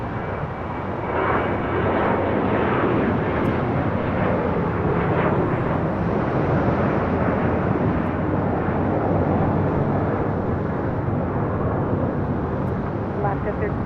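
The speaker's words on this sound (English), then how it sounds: "Just had a United 757 touchdown here on the south side." A United Boeing 757 airliner touches down on the south side of LAX, its engines giving a loud, steady broadband roar that holds for the whole stretch with little change.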